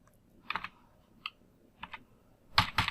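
Keys tapped on a wireless computer keyboard in short clusters of clicks with pauses between, close and crisp, ending in a louder quick burst of keystrokes; no talking.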